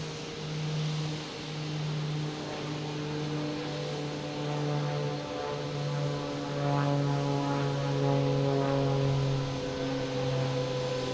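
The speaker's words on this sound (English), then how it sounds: "Wow, the planes are landing through the smoke." An aircraft landing at Boston Logan Airport drones overhead with a steady, tonal engine hum that swells and holds for several seconds, fairly distant but clear, with no talk over it.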